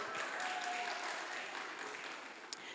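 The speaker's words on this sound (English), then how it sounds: "Clap for yourself" Audience clapping during a motivational talk, a light, fairly quiet patter that thins out, with a brief tone early on and a sharp clap near the end.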